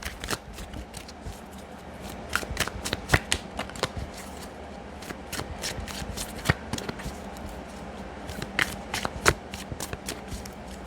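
Gilded Tarot cards by Ciro Marchetti are shuffled by hand, crisp riffling slaps and flutters repeating in quick irregular bursts, close and quiet, with no talking.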